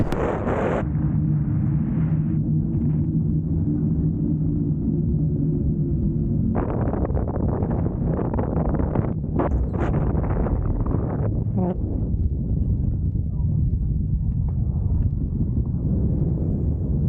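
Strong wind on the summit of Skiddaw by the trig point, buffeting the microphone as a loud, constant roaring rumble with gusty surges throughout and no speech.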